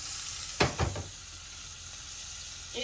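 A small knob of butter hits a hot frying pan with a couple of sharp sizzling bursts, then settles into a steady close hiss.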